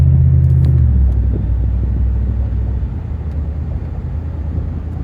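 A 2010 Ford F150 Raptor truck drives with a steady low engine rumble and road noise heard from inside the cab, the engine note dropping slightly early on as the transmission shifts.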